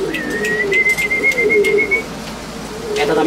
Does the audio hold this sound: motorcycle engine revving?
no